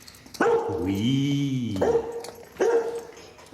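A dog barks loudly and close by in a couple of sharp yelps, with a long, wavering whimper between them; a person says a single short word.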